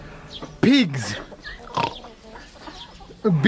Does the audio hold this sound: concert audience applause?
no